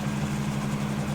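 Steady low drone of a Lycoming piston engine on a Cessna SkyHook CH1 helicopter in a VR flight simulator, idling continuously with an even, unbroken hum.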